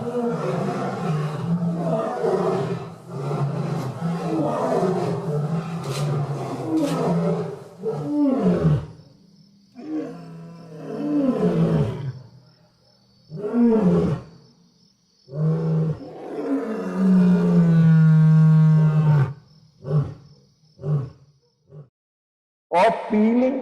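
A lion roars in a long, powerful series of deep, rumbling bellows that build and fade, separated by short pauses and breathy grunts, close and loud, ending in scattered softer calls.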